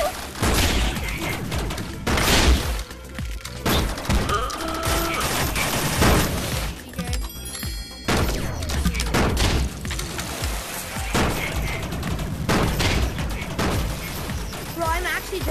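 Bursts of rapid gunfire and booms from shots at barrels in the VR game Rec Room, loud and repeated in clusters, with excited voices talking over the shooting.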